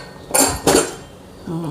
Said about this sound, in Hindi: अभी चलिए हम कुकर खोल लेते हैं।